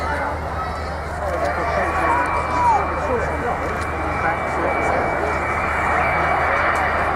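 Avro Vulcan delta-wing jet bomber flying past at Dunsfold with its wheels down, a broad steady jet roar rising slightly over several seconds, moderately distant, with crowd noise.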